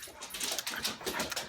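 A puppy dog named Sydney, nearly two years old, whimpers and whines in soft, repeated high-pitched bursts at close range, with light panting between the cries and no talk over it.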